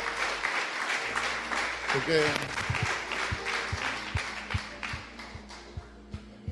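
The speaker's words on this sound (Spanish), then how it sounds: "Aplaudan." A church congregation applauds in a dense burst of clapping that gradually thins into sparse individual claps, with a voice speaking briefly over it.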